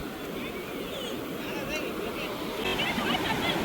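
Surf washes steadily onto a sand beach at night in strong wind, a continuous roaring wash with gusty wind buffeting the microphone and a faint murmur of voices in the background.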